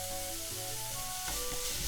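Chili pepper frying gently in a pan for a Korean namul vegetable side dish, giving a soft, steady sizzle that holds for a couple of seconds, fairly quiet, with faint tonal music underneath.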